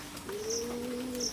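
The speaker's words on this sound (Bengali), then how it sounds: "পায়রা ডাকছে, আওয়াজ পাচ্ছ?" Soft, low cooing tones drift in and out over a quiet outdoor background, with faint higher chirps from other birds.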